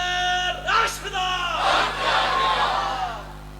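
A crowd in a mosque shouts a religious slogan in unison, a loud massed call of voices rising and fading over a few seconds.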